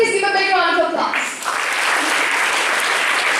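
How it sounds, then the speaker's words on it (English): A voice trails off over the opening second before a large audience at an engineering college's founding-day ceremony breaks into loud, sustained applause, a thick continuous wash of clapping. "Please give a big round of applause."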